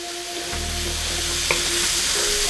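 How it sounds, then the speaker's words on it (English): Beef stroganoff ingredients simmer in butter in a pan, a steady, loud, close sizzle with a low hum underneath and one small clink of a utensil midway. "And then we're going to simmer this down just like last time"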